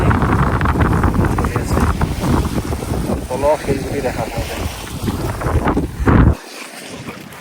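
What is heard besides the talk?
wind blowing at Pangong Lake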